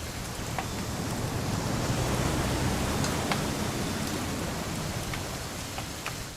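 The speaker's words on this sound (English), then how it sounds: "It's gonna rain the whole weekend, isn't it?" Video game rain in What Remains of Edith Finch hisses steadily and continuously, with scattered drops ticking on a surface, even and fairly soft, no voices.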